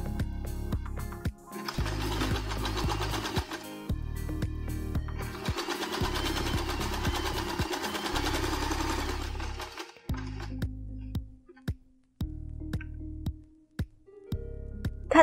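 A sewing machine stitching fabric for a thin braided bandana headband, running in steady rapid bursts of even mechanical stitching separated by short stops, close and clear with no talking.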